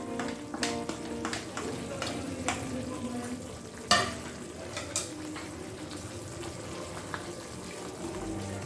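Soybean kurma with curry powder, kasuri methi and coriander leaves being stirred in a pan, a steady soft scraping and sizzling with occasional louder clinks of the spoon against the pan.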